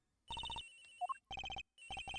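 Cell phone ringing in the video game Ace Attorney Investigations: a bright electronic ringtone plays in three bursts of rapid repeated tones, broken by a short melodic blip sequence, loud and alone with no talk.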